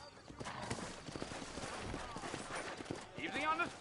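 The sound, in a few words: horses trotting, from a video game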